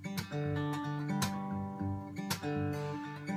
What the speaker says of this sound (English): I'm going to talk about the thumb slap and picking at the same time.